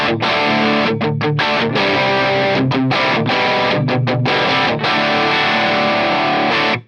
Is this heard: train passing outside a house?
no